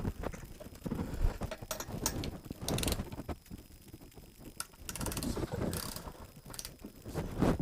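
A DeWalt Xtreme 3/8-inch 12-volt impact wrench set around 90 foot-pounds fires in several loud, close bursts of rapid rattling hammering, separated by brief pauses, with no speech.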